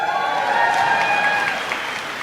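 Commencement audience at the Colorado Mountain College Roaring Fork campuses applauds in a dense, steady wash of clapping that holds evenly loud throughout and eases slightly near the end.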